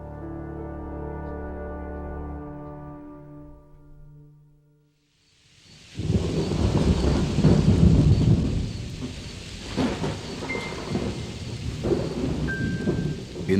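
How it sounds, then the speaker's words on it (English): Heavy rain roars with rumbling thunder during a violent autumn storm in the northern United States. It breaks in loud and sustained after soft music fades out, with sharper crashes scattered through the downpour. "violent storms pelted the northern United States"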